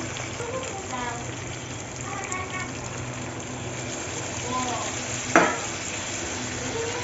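Beef liver sautés in a pan with a little water, giving a steady bubbling sizzle with occasional stirring clatter and a sharp clink, while faint talk runs underneath.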